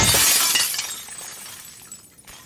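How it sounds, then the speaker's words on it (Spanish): A glass bottle shattering in The Last of Us Part II: a sharp, bright crash with scattering shards that decays over about two seconds, loud and close. "Era simplemente romper el vidrio."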